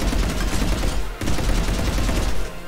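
Sustained gunfire in Mass Effect 3, a dense continuous volley of shots with one brief gap near the middle, loud and close throughout with no talk.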